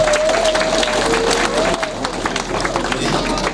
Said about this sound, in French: Je vous en prie, sous vos applaudissements.